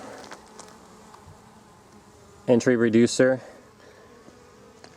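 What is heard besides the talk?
bees buzzing around a beehive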